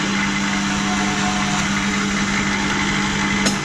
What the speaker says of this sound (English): pull the drill down through the hole, and then kick the stop button to turn it off